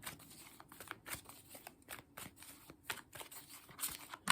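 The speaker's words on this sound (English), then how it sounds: "this is a good shuffles, already cards flying up, but I haven't finished shuffling yet" Tarot cards are shuffled by hand on a table in a series of quick, crisp riffling and tapping bursts, quiet and close, with no talking.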